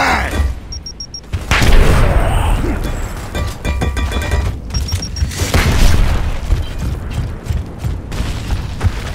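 Frag grenade blast in Gears of War, a heavy boom amid mechanical clanks and ratcheting weapon sounds, loud and close, with brief faint voices in the mix.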